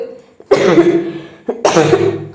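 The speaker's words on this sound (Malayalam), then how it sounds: "ചുമ കൊണ്ട് വയ്യ" Two harsh, loud coughs close by, the first longer and the second after a short pause, with a brief throaty sound between them.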